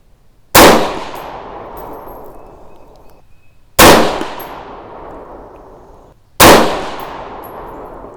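Three loud, sharp rifle shots from a 6.5 Grendel loaded with Accurate 2520 powder, spaced a few seconds apart, each with a ringing decay outdoors.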